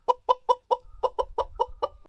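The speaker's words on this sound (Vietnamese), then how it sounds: "Con gà mái." A hen clucks about ten times in a quick, steady rhythm, each cluck short and clear, with a faint low rumble underneath toward the end.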